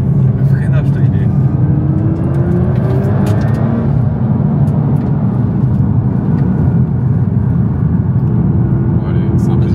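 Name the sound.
Nissan GTR R35 sports car driving and braking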